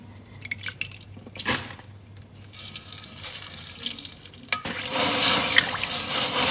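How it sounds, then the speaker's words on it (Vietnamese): Dried black beans are rinsed by hand in a basin of water, giving soft drips and sloshing that grow into louder, steadier splashing near the end. "Xong rồi mình vo rửa nhiều lần nước cho sạch ha."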